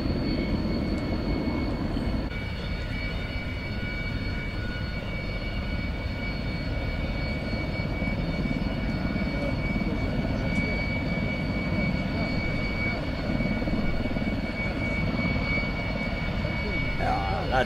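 A Boeing C-17 military transport aircraft flies past with a steady, loud roar and a constant engine whine that holds for the whole stretch, with no gaps.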